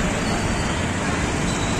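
Steady roadway rumble and hiss from buses and vehicles at the Hadapsar bus stand in Pune, a continuous close wash of traffic noise with faint crowd babble mixed in.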